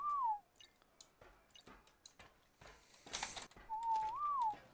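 Whistle command signals in the Ark survival video game: two short melodic whistles, one at the start and a longer rising-falling one near the end, with soft clicks and a brief noisy burst between them, fairly quiet.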